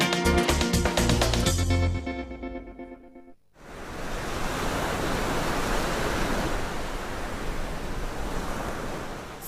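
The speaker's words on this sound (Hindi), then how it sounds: "समुद्र के किनारों से टकराती हुई मौजें," Ocean waves surge onto the shore in a steady, loud broadband wash that fills the second half, following a burst of music at the start.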